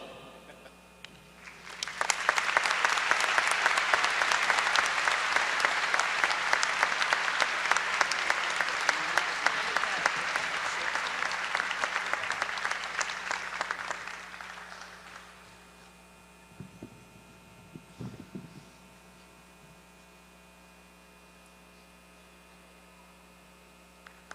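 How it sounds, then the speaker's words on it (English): A room full of people at a law school commencement ceremony claps steadily for over ten seconds, then the applause fades, leaving a low electrical hum and a few faint knocks. "You can applaud twice."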